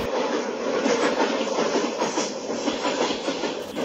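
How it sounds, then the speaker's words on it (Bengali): The 22418 Mahamana Superfast Express from Varanasi to New Delhi runs in a 3D train video game, giving a steady, loud rumble with continuous wheel clatter and no pauses. "আমাদের ট্রেন আর কিছুক্ষণ মধ্যে একটা ব্রিজে উঠতে চলেছে এবং একটা বিশাল কার্ভ নিয়ে।"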